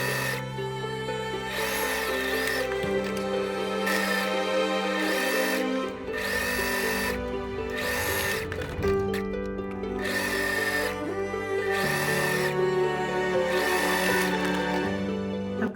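A sewing machine stitches upper skirt fabric pieces together in repeated bursts of fast mechanical whirring, each run lasting about a second with short pauses between, close and steady, backed by a soft continuous hum.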